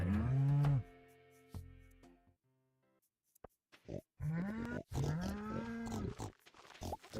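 Cows in the farming game Stardew Valley let out several loud, drawn-out moos. One comes at the start, then after a pause of clicks and quiet a few more follow close together, with no talking.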